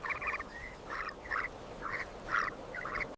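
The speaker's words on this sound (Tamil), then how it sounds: "தவளைகள் சத்தமா கத்தும், அது மழை வரப்போகுதுன்னு ஒரு நேச்சுரல் வார்னிங்." Frogs croak loudly as a natural warning that rain is coming, a string of about eight rasping pulsed croaks in an uneven rhythm, close and clear over a noisy outdoor background.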